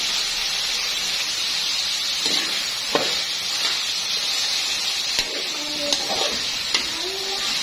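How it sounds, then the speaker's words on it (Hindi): Garlic-ginger paste and crushed green chillies fry in oil for a mutton biryani, giving a steady broadband sizzle throughout with a few faint clinks and scrapes of a spoon, no talking. "अब हम इसमें लहसुन अदरक का पेस्ट और कुटी हुई हरी मिर्चें ये हमने पीस की हुई थी, ये इसमें थोड़ी सी शामिल करके इसकी भुनाई करेंगे।"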